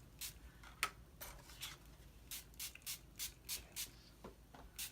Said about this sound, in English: we'll need our Stampin' spritzer filled with water